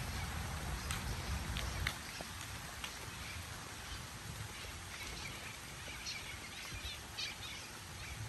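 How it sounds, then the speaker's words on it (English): Parrots give scattered short chirps and calls, mostly in the latter half, over a steady wash of heavy rain falling outdoors. "These parrots are all over."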